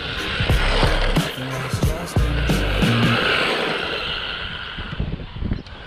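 A Jiusi Race WB12PRO 1/12-scale brushless 3S RC buggy drives close by, its motor whining in uneven bursts as it struggles for full throttle, with tyres scrabbling and skidding over the surface.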